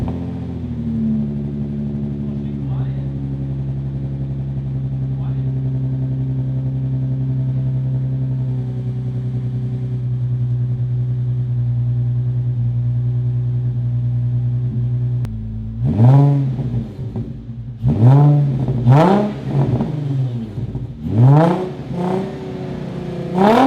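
Nissan 350Z fitted with a new exhaust, first idling with a steady low drone, then blipped through a series of sharp, loud revs that rise and fall in quick succession, close by with no talk.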